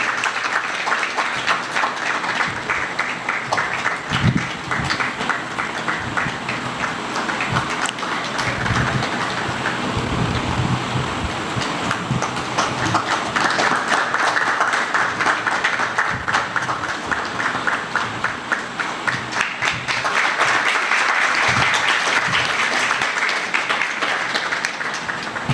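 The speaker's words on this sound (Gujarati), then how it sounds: "આ ધન્ય ક્ષણોને આપણે તાળીઓથી વધાવીએ." An audience at the opening session of an art and culture research camp applauds the release of a small book, sustained clapping with scattered louder claps that swells and continues for the whole stretch.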